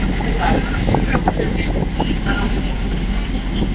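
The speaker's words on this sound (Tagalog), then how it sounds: "sakay kog barge" Steady engine drone and wind buffeting aboard a barge crossing toward Samal, continuous and fairly loud, with faint talk mixed in.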